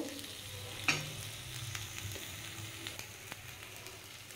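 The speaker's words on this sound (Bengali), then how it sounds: "আমার এটা হয়ে এসছে, আমি আরও একটু ভাজবো।" Moringa leaves fry in a pan for a leaf mash, a steady low sizzle running throughout with one sharp utensil knock early on and light stirring scrapes after.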